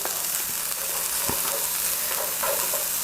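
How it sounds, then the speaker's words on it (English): Onion and garlic saute in a hot pan, giving a steady, even sizzle with an occasional soft knock of a stirring utensil against the pan; no voices. "There's nothing better than the smell of onion and garlic sauteing away"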